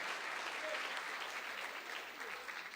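A church congregation claps in praise during a Portuguese-language sermon, a dense wash of applause that stays fairly faint and distant throughout, with possible voices blended in.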